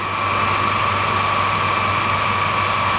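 A drill bit turning in a chuck slowed down to stop chatter while boring a pulley, a steady continuous machine hum with a sustained whine, close and even throughout with no talk.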